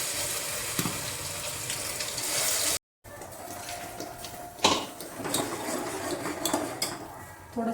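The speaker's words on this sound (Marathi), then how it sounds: "थोडंसं आपण पाणी टाकून हे भांडं पण भिजवून टाकूया." Water poured from a tap into a cooking pot to soak it after making a paste for jollof rice, a steady splashing stream with a brief break and light clinks of metal.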